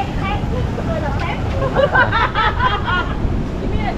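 Crowd chatter and surf at the Nhà thờ đổ beach in Nam Định, where a voice talks over a busy babble of people and a steady rush of waves and wind.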